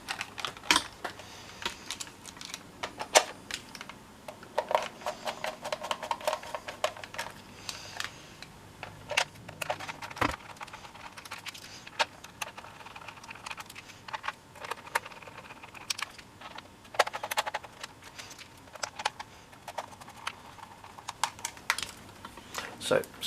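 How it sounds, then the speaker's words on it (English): Screws are driven back into an NCE model railway control handset to restore the contact behind non-responsive buttons, giving faint scattered clicks and small scrapes at close range with brief pauses between them. "we need to fully put all the screws in to make sure we've got a good contact"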